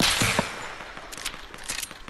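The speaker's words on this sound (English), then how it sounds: "Who the hell's shooting me?" Rapid bursts of gunfire in a Fortnite match on the Playgrounds mode, a quick cluster of shots near the start followed by fainter, scattered shots farther off, with no one talking.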